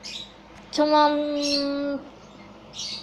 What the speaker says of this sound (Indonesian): terus jadi ada suara burung juga